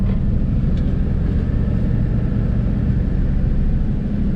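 A barn-find 1979 Dodge D100 step-side pickup grinds in a mud pit, a steady low engine rumble and drone as the wheels churn without pause, loud and close with no talking.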